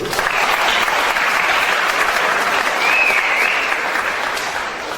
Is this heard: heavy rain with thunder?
no